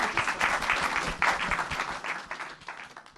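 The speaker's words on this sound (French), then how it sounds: "On peut l'applaudir." A short burst of applause at a Pernod Ricard shareholders' meeting, many hands clapping in a dense patter that swells early, then thins and fades over about three seconds.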